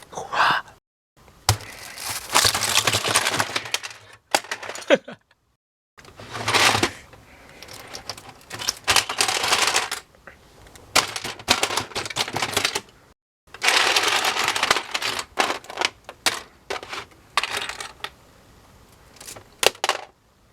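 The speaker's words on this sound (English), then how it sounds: "I will get done destroying all of this" LEGO bricks being pulled apart and dismantled by hand, a long run of dense plastic clicking, rattling and clattering in bursts separated by short pauses, close and fairly loud with no talking.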